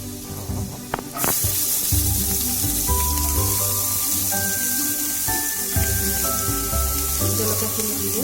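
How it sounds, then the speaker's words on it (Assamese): Ginger and onion sizzle in a hot pan for veg momo stuffing, a steady close frying hiss with a few clatters of utensils and tonal kitchen sounds in the background. "1 মিনিটৰ কাৰণে ফ্ৰাই কৰি ল'ম"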